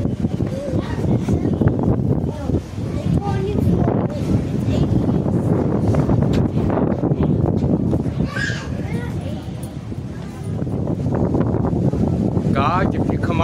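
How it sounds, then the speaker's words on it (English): A breeze buffeting the microphone at a mountain viewpoint in Anakeesta, Gatlinburg, a continuous gusty rumble with people talking over it. "Ooh, nice and breezy."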